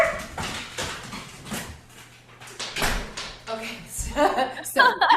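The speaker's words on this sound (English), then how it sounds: "They were barking like crazy." Dogs bark and whimper indoors, sharp barks scattered over several seconds mixed with a door sliding and someone speaking over them.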